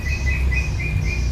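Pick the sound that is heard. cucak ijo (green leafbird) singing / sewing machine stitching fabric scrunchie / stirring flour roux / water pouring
cucak ijo (green leafbird) singing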